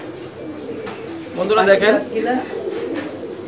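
Pankhi breed pigeons in a loft give soft throaty coos that swell in the middle, close by, while someone speaks briefly over them.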